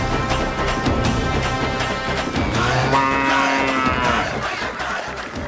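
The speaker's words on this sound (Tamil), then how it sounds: "அது பசு மாடா இருக்கும்." Cattle lowing in a farm or barnyard scene on a Tamil game show, a long drawn-out moo rising midway and holding over steady background noise, fairly loud and close.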